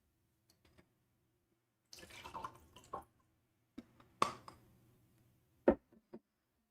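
A person takes a few small sips of water in a quiet room, with soft slurps, light clicks of a container and a swallow spread across several seconds.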